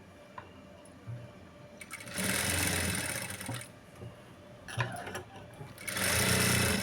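A sewing machine stitches a blouse seam in two loud sustained runs separated by a quieter pause, with light handling noise in between.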